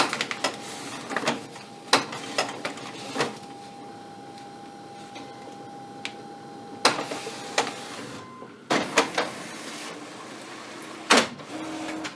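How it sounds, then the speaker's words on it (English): A wax printer whirs and clicks as paper it struggles with feeds through, with scattered thumps and a steady mechanical tone in the middle. "the printer is really not pleased with this paper"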